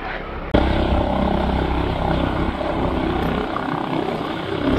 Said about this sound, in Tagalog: Binaba yung helicopter dyan sa may parking o.